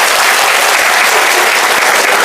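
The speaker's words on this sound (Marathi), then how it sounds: "एकदा मंत्री महोदयांसाठी हृदयाच्या तळापासून जोरदार टाळ्या होत्या एकदा." Loud, dense applause from an audience at a stage function, cheering a minister; steady clapping fills the whole short stretch with no voices over it.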